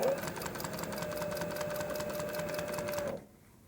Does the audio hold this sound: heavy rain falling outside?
no